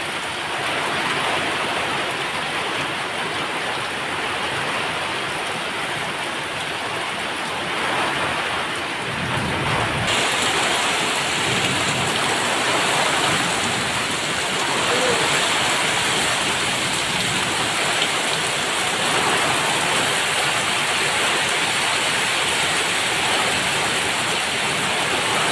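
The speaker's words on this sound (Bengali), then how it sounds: "সেরকম বৃষ্টিও শুরু হয়ে গেছে" Rain falls hard amid wind-tossed trees in a dense, unbroken roar that holds level throughout, rumbling underneath and sounding close by, with no voices.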